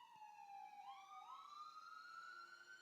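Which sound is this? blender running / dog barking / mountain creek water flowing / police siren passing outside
police siren passing outside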